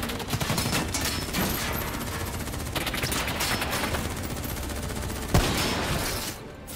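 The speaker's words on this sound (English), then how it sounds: "Who's shooting?" Sustained gunfire in Call of Duty Black Ops 3, a continuous loud wash of overlapping automatic shots with a sharper crack near the end.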